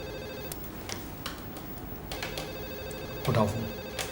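A telephone rings repeatedly in short electronic bursts, fairly close, with a brief louder thump or voice near the end.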